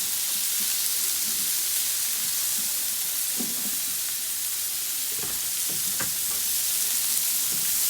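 Beef burgers sizzle steadily on a Blackstone flat-top griddle, a close, continuous broadband hiss with occasional pops and scrapes as the patties are rolled, with no talking over it.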